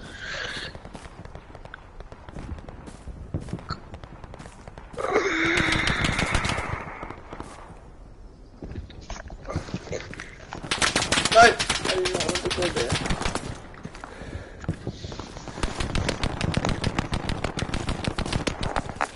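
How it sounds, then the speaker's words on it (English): Machine gun fire in Hell Let Loose sweeping down a road, rapid cracking bursts repeating across the scene at varying distances, with louder sustained volleys in the middle and at the end, under occasional voices. "It's an MG blowing down the road."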